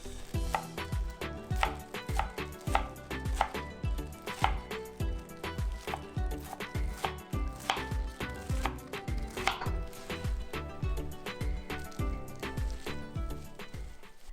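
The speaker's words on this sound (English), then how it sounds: "Make sure your spinach is thoroughly washed and drained, then chop it up." Washed and drained spinach being chopped with a knife on a board: a fast, steady series of close, crisp taps continuing for several seconds, with no voices.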